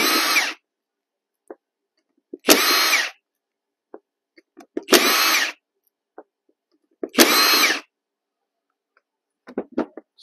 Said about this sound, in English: Start removing these bolts.